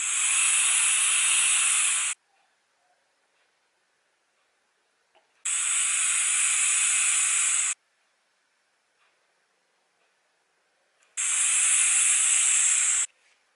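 A Wotofo Serpent SMM RTA atomizer on a vape mod at 40 watts with a 0.15 ohm coil and fully open airflow gives three long airy hissing draws, about two seconds each, separated by quiet gaps.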